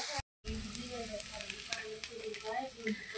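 Okra frying in a pan: close, continuous crackling sizzle after a brief cut at the start, with faint voices murmuring underneath.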